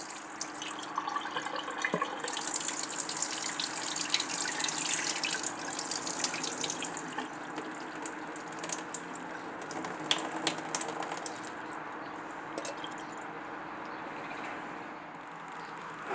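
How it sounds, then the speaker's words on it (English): Dirty rinse water from washing fresh tulsi (holy basil) leaves being poured out into a sink, a steady splashing rush of liquid lasting throughout, close and fairly loud. "pouring out that dirty water."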